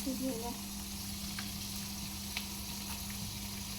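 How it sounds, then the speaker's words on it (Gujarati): Garlic, onion and tomato tempering for a mung bean curry sizzles softly in a pan, a faint steady frying hiss with a low hum beneath, over a few seconds. "લસણ ડુંગળી ટામેટા આપણે વઘાર નાખી દીધી, વઘારી દીધા"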